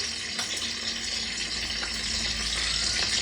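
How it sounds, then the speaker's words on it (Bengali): Fish, a snakehead with potato, frying in a pan, giving a steady broadband sizzle that holds evenly throughout at close range, with no voices. "আলু দিয়ে মাছ এখানে ভাজতে শুরু করে দিয়েছি"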